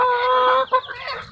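A chicken feeding gives a close, loud drawn-out cluck followed by a couple of shorter clucks.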